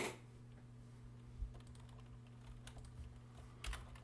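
Quiet, scattered keystrokes on a computer keyboard as a password is typed, faint and close over a steady low electrical hum, with no voices.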